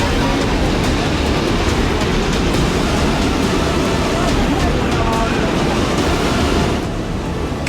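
Floodwater rushing loudly through flooded city streets in heavy rain, a steady broadband roar that stays close and constant throughout without pause.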